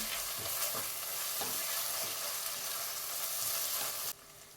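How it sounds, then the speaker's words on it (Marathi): Coarsely crushed green chillies and ginger sauté in a pan with tomato for spicy masala rice: a dense, steady sizzle with a few soft stirring scrapes, close and continuous until it drops away just before the end. "3 हिरवी मिरची आणि अर्धा इंच अद्रक जाडसर ठेचा करून घेतलेला, तोही मिक्स करून परतून घेऊया"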